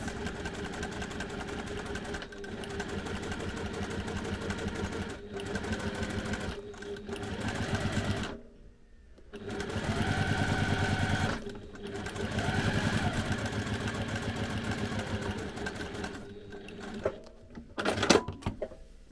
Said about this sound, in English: now we're ready to stitch our pieces in place